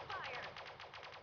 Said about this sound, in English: Pulse cannons away.